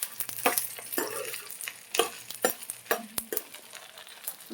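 Gongura pickle ingredients, including dried red chillies, stirring and frying in hot oil on low heat, with a steady close sizzle broken by repeated scraping stirs of a spoon against the pan.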